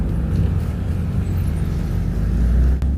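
A cheap BMW car pulls away after the clutch is released, with a loud, close, steady engine drone that holds through the moment.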